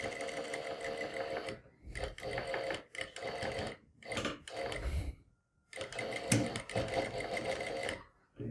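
A sewing machine slowly stitches a decorated neckline on synthetic fabric near potli buttons, running in short, close, loud bursts of rapid needle clatter separated by brief stops.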